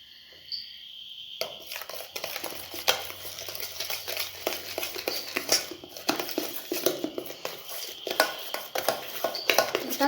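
A spoon scrapes and taps around a bowl while cake batter is stirred with a dry powder mix for a no-oven home cake, making busy rhythmic clinks and scrapes throughout after a quiet opening second.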